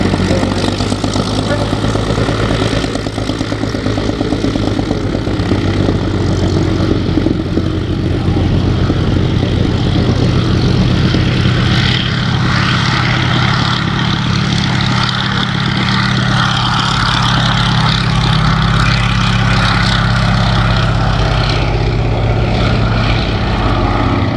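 A Navy Wings Fairey Swordfish Mk 1 biplane flies at the Shuttleworth Airshow, its piston engine and propeller giving a loud, steady droning rumble that slowly shifts in pitch as it passes, with commentary spoken over it.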